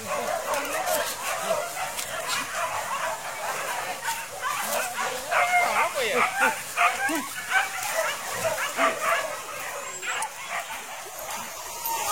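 Hunting dogs bark and yip during a wild boar hunt at Muaro Kalaban, Taragi, a busy tangle of repeated barks and whimpers at mid distance mixed with outdoor noise and people talking.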